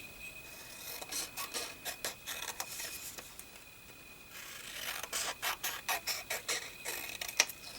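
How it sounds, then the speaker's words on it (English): Paper edges being trimmed for a creative daily journal with tip-in pages, a run of short rasping cuts in two bursts, faint and close, with no talk. "Just trimming off those edges there."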